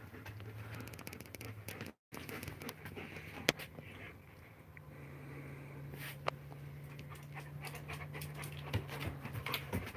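A German Shepherd pants rhythmically close by, quick breathy huffs running steadily under faint background sounds, broken by a brief dropout and a few scattered clicks.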